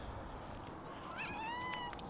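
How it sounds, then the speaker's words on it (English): A black cat gives a single thin, rising-then-falling meow near the end, fairly faint against steady background hiss and noise, with no talking. "Hello, cat."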